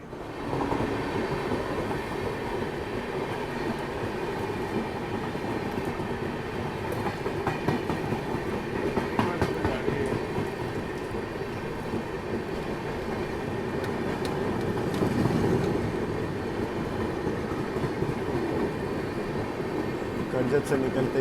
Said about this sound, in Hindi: कर्जत से निकलते ही किसी ट्रेन से अपनी क्रॉसिंग हो रही है।